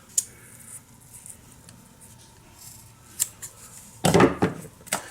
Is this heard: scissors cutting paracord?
yes